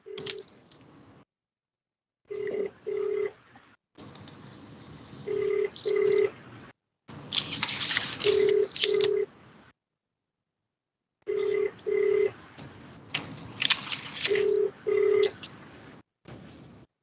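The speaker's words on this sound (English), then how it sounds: "DJP Sutherland is not answering the phone" Telephone rings repeatedly without being answered during a virtual judicial hearing, bursts of paired tones recurring over roughly seventeen seconds with short silent gaps between rings.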